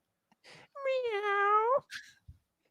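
A man imitates a cat with a drawn-out, wavering "meow" in a close, dry voice, preceded by a short breathy sound and followed by a brief clipped vocal noise.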